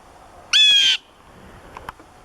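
A blue jay gives one harsh, loud call lasting about half a second while agitated at a crow, followed by a couple of faint ticks and rustles in an otherwise quiet outdoor setting.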